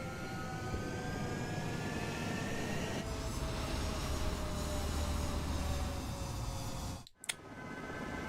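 Fighter jets in the Ace Combat 7 video game roar on a runway during takeoff, a loud sustained jet-engine rumble with rising whining tones that cuts out abruptly near the end with a sharp click.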